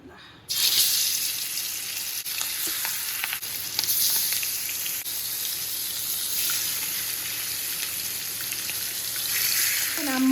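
Onions and tomatoes sauté in a hot pan, a steady close sizzle that carries on from just after the start to the end, with a few faint clicks and scrapes. No one speaks.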